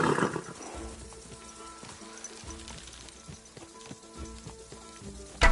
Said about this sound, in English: Easy, good horse.